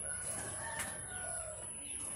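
Chickens in a coop cluck and call, with a rooster-like crow rising midway; the birds sound agitated and fairly close over a steady background hiss.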